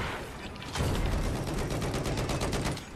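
A tank fires incinerator rounds in Battlefield 4: a loud, fast, rattling burst of shots starting just under a second in and running steadily to the end, close and dense.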